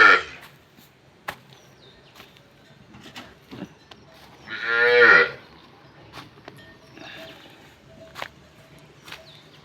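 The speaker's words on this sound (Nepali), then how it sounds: "एकदिन भरिदिएर थियो खाइसक्यो सबै डल्ली गाईले।" A single loud, close moo from a farm cow stands out midway, surrounded by quiet rustling and a few faint knocks.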